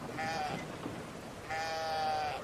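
A sheep in the video game Brothers: A Tale of Two Sons bleats twice, a short call followed by a longer wavering one, close and clear.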